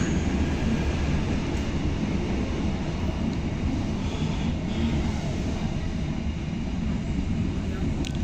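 A KRL commuter train departs Yogyakarta station, rumbling steadily and loudly close by, a continuous low roar of wheels and engine with faint talk underneath.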